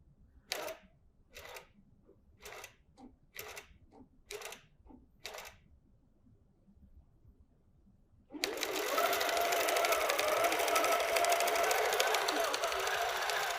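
A QCT6 Plus quilting machine starts stitching a design, a loud, steady mechanical whir that runs continuously after a quieter stretch of separate clicks and short bursts.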